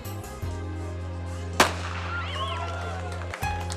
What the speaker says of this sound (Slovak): A teraz bude výstrel.